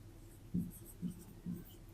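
A pen writes a math equation on paper, three short soft scratching strokes spaced about half a second apart, close but faint over a quiet background.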